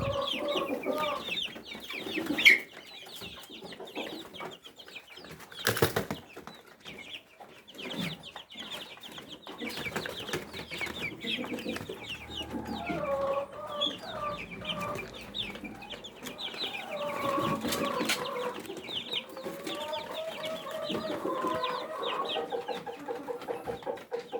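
Rhode Island chicks cluck and peep in a backyard farm, soft and fairly distant, with scattered louder calls and faint background noise throughout.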